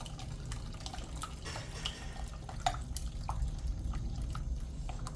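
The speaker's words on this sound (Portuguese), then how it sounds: "Vou acrescentar mais 1 litro aqui." Liquid pours into a container while homemade detergent is mixed, a faint trickling and dripping stream with small splashes, quiet and close throughout.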